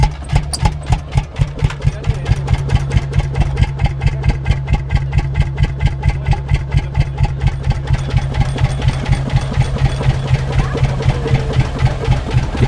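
A vintage Deutz tractor engine runs at a vintage tractor rally, a loud, steady, rapid thumping idle with evenly spaced beats and no talk over it.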